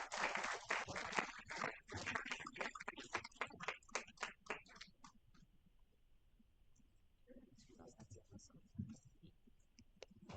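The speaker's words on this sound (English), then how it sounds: "Please, a round of applause for him." Applause from a university freshers' orientation audience welcoming the exams officer: dense clapping for about five seconds that fades into quieter room noise, followed by a few scattered claps and brief murmurs.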